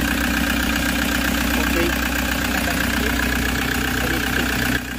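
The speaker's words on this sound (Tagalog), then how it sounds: "So maririnig mo yung under ng makina knocking." A Toyota Hiace engine with fault codes knocks roughly while idling just after starting, a steady loud mechanical rumble with rhythmic ticking throughout, and a brief spoken word over it near the end.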